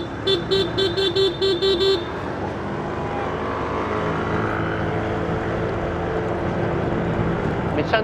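Road traffic in the Philippines with tricycles passing: a rapid series of horn toots at the start, then a steady motor rumble and engine drone that swells as a vehicle goes by, with people talking over it.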